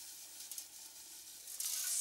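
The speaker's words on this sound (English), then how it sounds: "it's very rapidly boiling" A clear liquid boils rapidly at room temperature, giving a steady high hiss and fizz that swells louder toward the end, with no voices over it.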